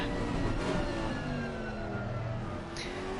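The engine of a Lexus GT3 race car in a racing video game drones loud and continuous, with a steady mid-pitched roar and slight shifts in pitch as it accelerates.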